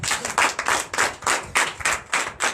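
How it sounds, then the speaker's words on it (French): A congregation at a Sunday church worship service claps enthusiastically, with steady pulsing bursts of applause and no talking. "Donnez l'acclamation à Jésus"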